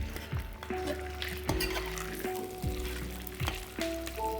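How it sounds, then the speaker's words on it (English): Hot oil sizzles and crackles steadily in a frying pan as a sea bass fillet fries skin side down, with a few clinks and scrapes of utensils against the pan; no voices. "So we've got our oil nice and hot in the pan. I'm just going to lay this fish skin side down."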